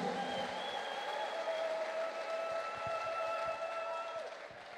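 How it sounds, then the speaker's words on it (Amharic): A church congregation cheering and clapping together, a dense steady wash of applause with a high sustained ululating trill riding above it, fading slightly at the end. "ለጌታ እልልታ ጭብጨባ አለው"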